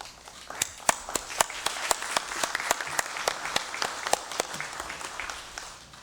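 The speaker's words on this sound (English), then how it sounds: "a sounding round of applause" Scattered clapping from a small group in a legislative congress session, individual claps distinct and rhythmic, moderately close, fading out near the end.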